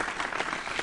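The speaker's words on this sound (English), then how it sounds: "You get golf claps. Golf claps, baby." Polite golf-clap applause from the Tricky Test quiz video game, a brief, steady patter of soft claps lasting under a second.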